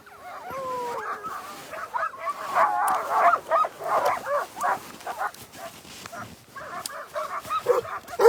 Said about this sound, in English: We just had a really nice howl.